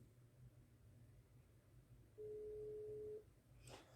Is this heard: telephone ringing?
yes